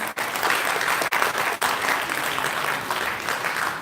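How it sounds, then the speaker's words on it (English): An audience at a press launch for the 2019 SEA Games broadcast in the Philippines gives a sustained round of applause, dense and steady clapping throughout with a few brief dips. "Would it be too much to ask for another round of applause?"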